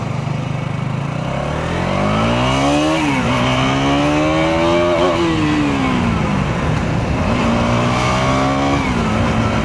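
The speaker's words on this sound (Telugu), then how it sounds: "నేను సెకండ్ గేర్ నుంచి థర్డ్ గేర్కి వెళ్ళేటప్పుడు నాకింగ్ అయితే వచ్చింది" A Harley-Davidson motorcycle rides steadily, its engine rising and dropping in pitch as gears shift from second to third, with a knocking in the engine during the shift; the loud engine drone is continuous and close, with no talk.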